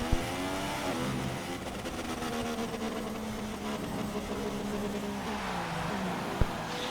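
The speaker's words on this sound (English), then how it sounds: "I don't know what Hamilton's engine was doing right there" Race car engines in the game F1 2016 whine and rev continuously at the Singapore Grand Prix, the pitch rising and falling as gears shift, loud and steady for the whole stretch.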